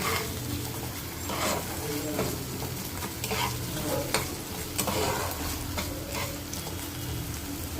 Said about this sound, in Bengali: এবারে এটাকে ভালো করে আমি কষিয়ে নেব